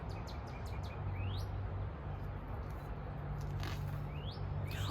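Several small birds chirp and tweet in short rising calls, scattered through the clip over a steady outdoor background hiss, with a few clusters of quick notes near the start and end.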